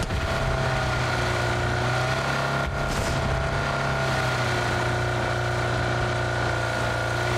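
Car engine in PUBG driving at speed: a steady, droning motor hum that holds constant throughout with a brief dip partway, and no talk over it.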